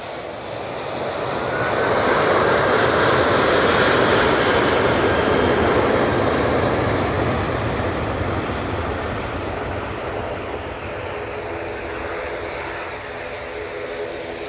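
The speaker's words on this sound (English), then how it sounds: "Emirates has now started its taxi." Emirates airliner taxiing at Manchester Airport, a steady broadband jet engine roar that swells over the first few seconds, then holds and slowly eases, fairly loud and continuous with no talk.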